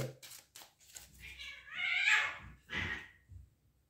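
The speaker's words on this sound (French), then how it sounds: "C'est les chats, c'est rien, ils font mumuse." Several cats playing at home let out a string of meows and drawn-out caterwauls, moderately loud and close, with short pauses between calls.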